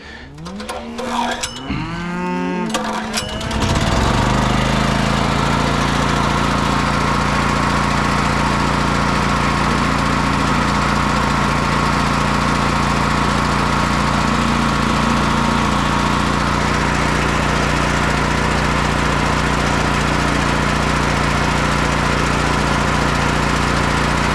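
A small engine, choke on, starts after a few rough cranking sputters and settles into a loud, steady, unbroken idle drone that continues for the rest of the span, with no voices.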